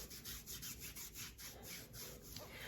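Hands rubbing kinesiology tape against the skin of a hand to warm the adhesive, a quiet, steady series of soft brushing strokes repeating about twice a second with no talking.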